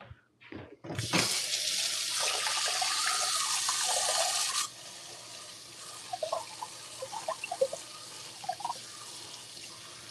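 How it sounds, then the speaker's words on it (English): A kitchen tap runs hard into a sink, a loud steady rush for a few seconds, then the flow eases and zucchini is rinsed under it, with irregular splashes and drips. "I have to rinse this now."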